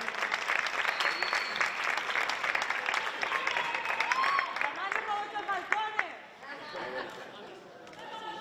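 Sustained applause from a crowd at a 2016 tuna music contest award ceremony in Cazorla, steady clapping with chatter and voices throughout, thinning out toward the end.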